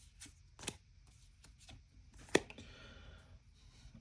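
Marvel Champions cards being handled off the top of a deck: a few soft, brief card flicks and slides, one sharper snap near the middle, quiet and close with no talking.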